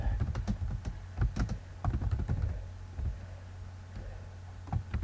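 Typing on a computer keyboard while writing a social media post, quick irregular bursts of close, crisp key clicks and thumps with short pauses between them.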